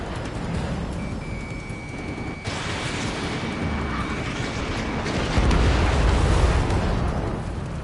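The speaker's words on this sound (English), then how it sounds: "Cyclops 1, missile!" A missile explosion in the air-combat video game Ace Combat 7 rumbles as a loud, sustained blast within continuous game noise, swelling heavier toward the end of the clip.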